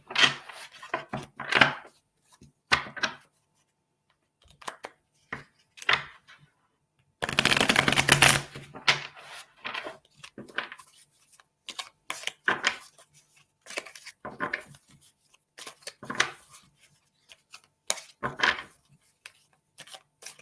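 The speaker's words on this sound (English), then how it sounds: "Pull some cards for you, Lena." Tarot cards are shuffled and pulled from the deck, heard up close as bursts of riffling and soft slaps separated by pauses, with one long riffle in the middle. Nobody speaks.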